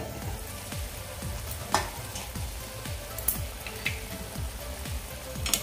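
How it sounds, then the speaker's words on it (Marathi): Eggplant bharit being stirred in a pan on the stove: repeated rhythmic scraping strokes over a steady low sizzle, with a few sharper clinks of the spoon against the pan. "व्यवस्थित आपण मिक्स करून घेऊया"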